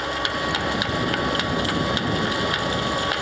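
Dense, continuous crushing and clattering from a demining machine's rotor, its chain-mounted hammers beating the ground to break up or detonate buried mines; loud and close, steady throughout with no voices.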